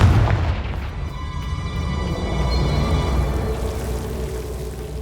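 Confringo fire spell exploding in Hogwarts Legacy, a heavy boom at the start rolling into a sustained low rumble and hiss with a faint ringing tone above it.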